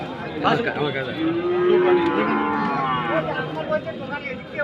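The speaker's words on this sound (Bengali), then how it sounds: "এটা হচ্ছে দিশি বাছুর" A native calf mooing at an open-air cattle market, one long loud nearby moo rising and holding, with faint crowd murmur in the background.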